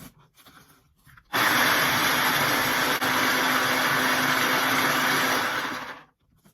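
Blender grinding Flamin' Hot Cheetos into crumbs, starting abruptly after a quiet moment and running as a loud, steady whirring roar for about five seconds before winding down.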